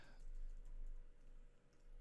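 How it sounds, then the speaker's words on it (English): Quiet, rapid clicking of keys on a computer keyboard, an uneven patter of typing keystrokes close to the mic with no talking. "Apologize about my typing today."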